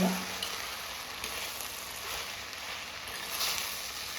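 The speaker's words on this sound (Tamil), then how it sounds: "நம்ம சேர்த்துக்கிட்ட வெண்டைக்காய் வந்து பாதி அளவுக்கு வதங்கிடுச்சு" Okra (ladies finger) sautéing in a pan with turmeric and salt, a steady broadband sizzle running throughout, moderately quiet with slight swells.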